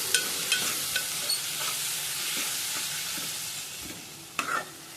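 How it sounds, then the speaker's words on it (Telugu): Cucumber pieces with turmeric are stirred in a hot pan, a soft constant sizzle punctuated by close clicks and scrapes of the spoon against the pan at an uneven rhythm. "పసుపు వేసుకొని కలిపేసుకోవాలి ఒకసారి"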